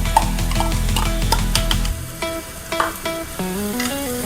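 Carrots frying in a pan hiss softly while a spoon stirs with repeated scraping and clinking, close up and with no talking.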